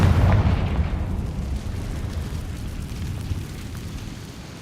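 A Confringo spell explosion in a video game: a single deep boom at the start that rumbles and decays slowly over several seconds, heavy in the low end, with no talk over it.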